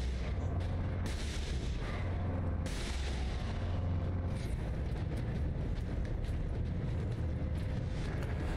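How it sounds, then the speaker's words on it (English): Rapid heavy booming and blasts from a laser cannon weapon in a Space Marine video game, continuous dense firing with repeated sharp impacts over a loud, rumbling battle din. "Don't get many shots with the laser cannon, but it's pretty good."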